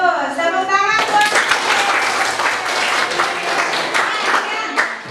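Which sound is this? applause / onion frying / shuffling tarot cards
applause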